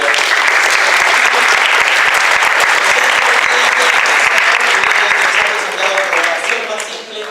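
An audience breaks into sustained, loud applause for a speaker at a Spanish-language talk on Clojure and Datomic, dense clapping filling the room for about six seconds before it begins to thin out.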